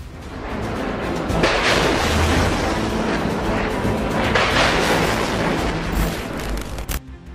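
A loud, continuous roar of missile explosions at an Israeli military base, blasts and rumbling booms dense and sustained, with sharper bursts rising out of the thunderous noise.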